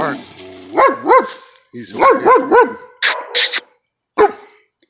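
Big dogs barking on a porch, several loud, close barks in quick clusters with a brief whine, and a voice speaking briefly among them.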